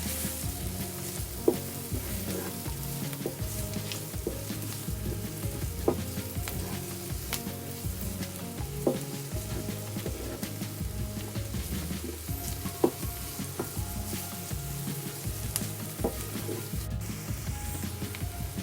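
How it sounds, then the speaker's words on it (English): Masala spice frying with onions in a pan for a curry, a steady close sizzle with faint clinks of stirring throughout and no talking. "add about 1 or 2 teaspoons masala, depending on how hot you actually want it. And just fry that in with the onions"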